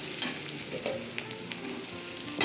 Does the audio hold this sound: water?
no